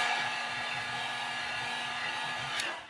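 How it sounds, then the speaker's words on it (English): A heat gun blowing hot air to set paint on a custom-painted fishing lure, a steady close whooshing hiss of fan and airflow that holds evenly for a few seconds, then tails off slightly. "I'm going to be heat setting in between each coat."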